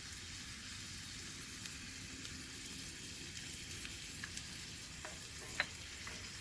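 Apple cider vinegar and maple syrup simmer and sizzle in a pan, a steady broadband frying hiss with scattered small pops and crackles, close and moderately loud, with no talking.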